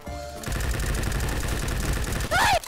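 Rapid gunfire in a Roblox shooting game, a dense continuous burst of shots, loud and close, ending with a rising electronic chirp.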